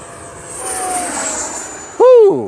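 A Freewing L-39 RC jet with an 80mm electric ducted fan flies overhead, giving a steady, fairly distant high whine that drifts slightly in pitch; a voice briefly speaks near the end.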